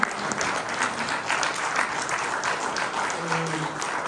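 Sustained applause from a colloquium audience in a university hall, a dense, steady wash of many hands clapping at moderate distance throughout, with a faint murmur underneath.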